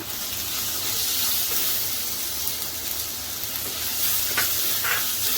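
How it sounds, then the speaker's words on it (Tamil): Tomatoes sauté in a clay pot for a chicken gravy, sizzling steadily with a crackling hiss and faint stirring scrapes, close and continuous without talk. "இப்போது இந்த மாதிரி நல்லா வதக்கினதுக்கப்புறமா இப்போ நம்ம வந்து இந்த தக்காளி ஆட் பண்ணிக்கலாம்"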